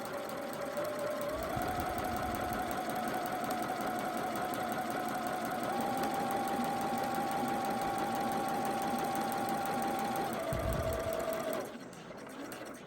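A sewing machine runs steadily while stitching a hemmed seam, with a continuous close mechanical whir at constant pace for about ten seconds before stopping near the end.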